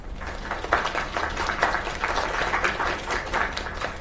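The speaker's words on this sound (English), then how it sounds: "Another round of applause." A video game crowd applauding steadily, a dense wash of many hands clapping at a fairly loud, even level throughout.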